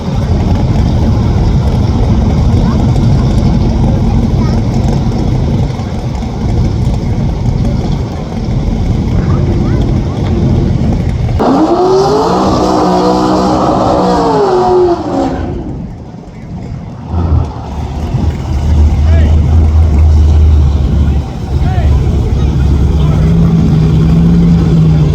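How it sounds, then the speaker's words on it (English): Drag racing car with huge blowers doing a two-tire burnout at Tulsa Raceway Park, a loud sustained engine roar with a rising rev in the middle, then a brief dip before the roar resumes, with crowd noise and a voice over it. "Let's try that burnout again with both tires."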